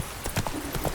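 Hooves of Roach, the horse in The Witcher 3, clip-clop in a quick irregular patter, up close, over about a second of play.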